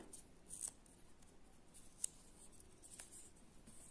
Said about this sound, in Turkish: Şimdi buradan makasla kesmek istiyorum.